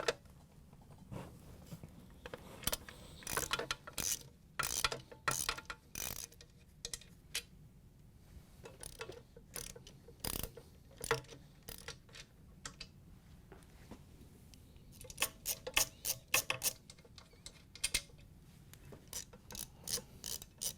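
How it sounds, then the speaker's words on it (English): A ratchet fitted with a large Phillips driver loosens the base screws of a KitchenAid stand mixer, giving a long run of rapid, close mechanical clicking and pawl ratcheting in bursts with brief pauses. "we're going to use a ratchet with a large Phillips driver on it in order to get some torque on it so they come out pretty easy"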